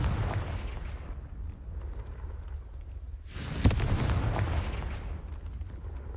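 An explosive blast from the Confringo spell in Hogwarts Legacy bursts out of low rumbling game noise, a sharp crack followed by a broad roaring wash that slowly fades.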